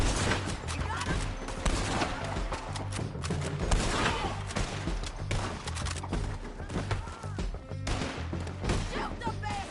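Gunfire in the Red Dead Redemption 2 video game, with dense bursts of shots and heavy thumps going off continuously and loudly throughout, mixed with in-game voices shouting.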